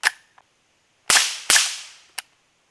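A suppressed B&T MP7 fires Hornady red tip rounds, giving three sharp, close cracks with short decaying tails plus a fainter click, with no voices.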